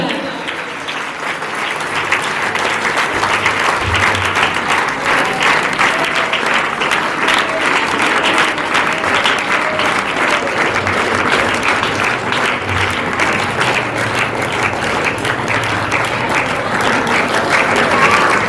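A large school audience claps loudly and steadily at a Teachers' Day tribute as the teacher walks onto the stage. The thick, continuous applause runs for the whole stretch without a break, with faint low rumbles and no clear speech.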